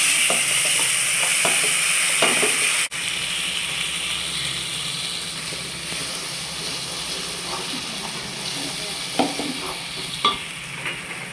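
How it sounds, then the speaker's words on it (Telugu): Ground masala paste for a stuffed brinjal curry sizzles steadily in hot oil, a continuous bright frying hiss with occasional scrapes and clicks of stirring, close by and without talk. "ఇప్పుడు ఈ మిగిలిన ఆయిల్లో ఈ పేస్ట్, ఇప్పుడు ఇందాక మిశ్రమంలో మనం గ్రైండ్ చేసుకున్న పేస్ట్ ఈ ఆయిల్లో వేసుకొని ఫ్రై చేసుకోవాలి"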